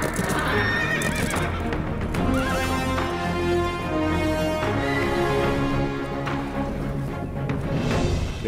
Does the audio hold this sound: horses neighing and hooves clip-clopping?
yes